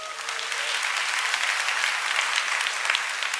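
Audience applause filling the room, a dense steady clapping that holds at an even level from start to finish without voices over it.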